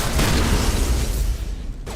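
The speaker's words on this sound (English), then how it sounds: "And I hit him with a shotgun." A heavy shotgun blast in Mass Effect 1 Legendary Edition combat, one loud, broad boom that hits at once and rumbles off over about two seconds, with no talking.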